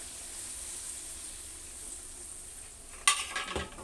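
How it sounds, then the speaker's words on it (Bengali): Potatoes sauté in a pan of curry with a soft steady sizzle, then a spoon scrapes and stirs the pan near the end, giving a few louder close clatters. "আস্তে আস্তে একটু আলু দিয়ে কষিয়ে নেই।"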